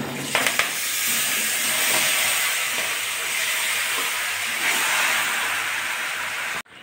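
Marinated chicken pieces go into hot oil with spices such as cloves and bay leaf, producing a loud, continuous frying hiss and sizzle up close that stays steady throughout and cuts off abruptly at the end.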